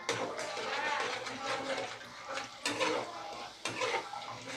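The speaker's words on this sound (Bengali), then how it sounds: "মশলাটা এইভাবে কষতে থাকতে হবে।" Spice paste made with tomato ketchup fries in a pan for a fish kalia, heard as dense sizzling and a scraping stir with a few louder bursts as the paste is worked, under a speaking voice.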